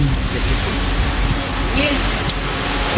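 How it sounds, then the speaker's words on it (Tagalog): Heavy rain pours down in a dense, continuous hiss with strong wind at a mountain campsite, with a few faint voices mixed into the steady downpour. "lalo pang lumakas ang ulan at ang ihip ng hangin"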